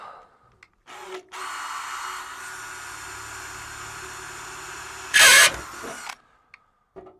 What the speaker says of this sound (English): drill a hole.